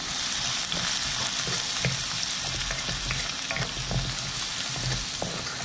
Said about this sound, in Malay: Bawang digoreng selama 1 minit